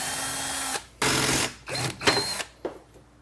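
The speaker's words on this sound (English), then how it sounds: "Anytime you drill any holes into your vehicle" A power drill bores holes into a Ford Mustang bumper while a 3dCarbon Boy Racer body kit is fitted, with several close, whining bursts that start and stop abruptly, no speech.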